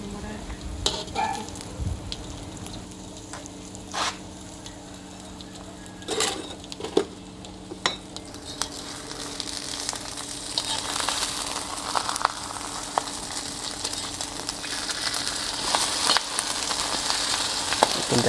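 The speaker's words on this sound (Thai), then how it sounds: "ขัวไข่ใส่ตัวต่อขัวไข่หรือว่าทอดไข่เจียวใส่ตัวต่อ" Omelette with hornets frying in a pan, a steady close sizzle and crackle throughout, with occasional clinks and stirring scrapes and a thicker spatter building in the second half.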